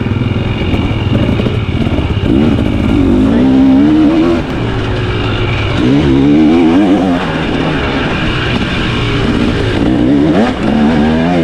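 A 2023 KTM 300XC TBI two-stroke dirt bike rides along a woods trail in third gear at Crow Canyon. The engine hums loud and steady throughout, rising and falling slightly with the throttle, with no voices.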